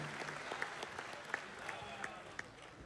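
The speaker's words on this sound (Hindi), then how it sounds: "फिर बढ़ो ज़ीशान, एक बार बाद तालियां बजा दो भाई" Faint, distant applause from an audience at a Dubai mushaira poetry gathering, a thin spread of clapping with a few sharper individual claps under a quiet background.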